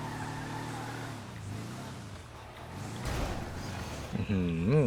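BF Injection off-road buggy, a Beetle-like dune buggy, driving in GTA V: a fluctuating engine drone with rising and falling revs, a louder surge partway through and a sharp rev climb at the end, under someone talking.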